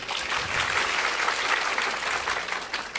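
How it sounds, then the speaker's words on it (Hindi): Audience applause from a crowd at a spiritual discourse, a dense, steady wash of many hands clapping that holds loud and continuous for the full three seconds, with no voices rising above it. "सवाल के लिए तालियां बजाइए।"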